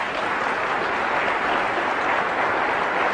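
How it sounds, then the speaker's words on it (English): Steady, dense audience applause fills a lecture hall, a continuous wash of many hands clapping at even loudness throughout with no speech over it. "Yeah, you can applaud."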